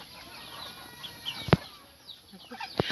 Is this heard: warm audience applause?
no